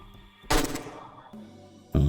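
Kalashnikov rifle fire in a video game: one sharp shot rings out with a decaying tail, followed by a second blast at the end.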